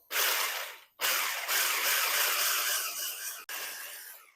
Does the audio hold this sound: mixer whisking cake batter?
yes